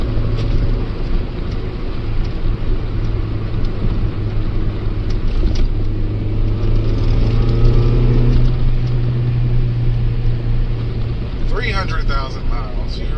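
A Ford Escort GT with a twin-cam 16-valve engine cruising on backroads: a steady low engine drone and road and wind roar throughout, with someone talking over it.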